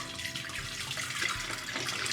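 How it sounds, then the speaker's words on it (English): Filtered tap water pours steadily into a container, a close, continuous splashing hiss of running water with no talking. "I emptied the water and we're gonna fill it up with some good old filtered water."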